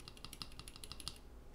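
Unlubed Novelkeys Cream mechanical keyboard switches, about a dozen crisp, even keystroke clicks in quick steady rhythm, close and quiet, with nothing else heard.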